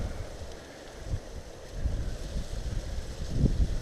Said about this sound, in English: This wind is